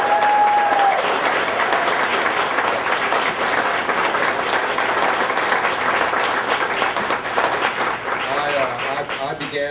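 Sustained audience applause at a ribbon cutting for a renovation celebration, steady and full throughout, thanking Amara Oden.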